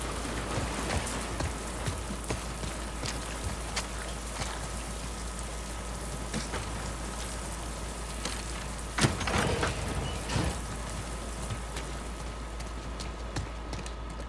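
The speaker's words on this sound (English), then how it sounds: "Get out of the rain." Rain falls in The Last of Us Part II, a steady close patter of drops on surfaces with a few brief louder thumps partway through, heard alone without speech.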